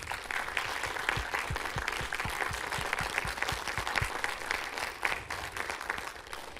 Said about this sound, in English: can we give Melissa a round of applause?